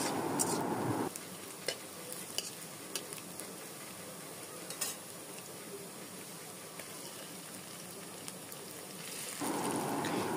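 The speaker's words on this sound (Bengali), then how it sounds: "এবার এর ভিতরে দিয়ে দেব পেঁয়াজ কুচি, দিয়ে এরপর খুব ভালো মতো নাড়িয়ে ভেজে নেব।" Chopped onions with cinnamon frying in a pan for a potato egg curry, a faint steady sizzle with scattered light clicks of stirring, and louder bursts of frying at the start and end.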